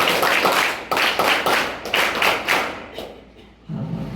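Eleventh-grade students clap together in quick rhythmic bursts, loud and close, in several evenly spaced groups that fade briefly before a final low thumping swell.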